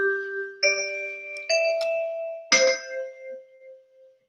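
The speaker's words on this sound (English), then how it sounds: "That's the bell." A school bell chimes a four-note ding-dong melody to signal the break in a university classroom, each clear tone ringing out and decaying, loud and alone.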